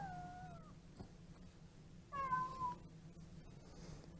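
Two electronic meow sounds, a short one then a longer one after a pause, play faintly over a low hum, like a toy imitating a cat.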